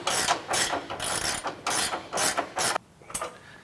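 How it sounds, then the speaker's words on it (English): A ratcheting 9/16 inch wrench tightens skid plate bracket bolts on a Jeep JT diesel belly pan, several close bursts of rapid clicking separated by short gaps before it stops. "We're using a 9/16" wrench to go ahead and tighten up the lower edges of the brackets."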